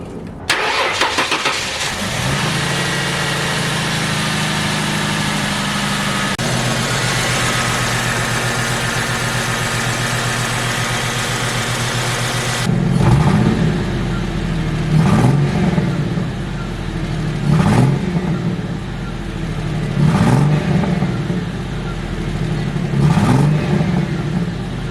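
Ford Mustang V8 with a misfire: a start and steady uneven idle, then repeated blips of revving with a stumbling, lumpy note, close and loud with no talking.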